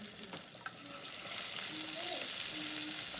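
Beer-battered fish dropping into hot frying oil, giving a steady, bright, close sizzle that swells slightly and holds without any talk.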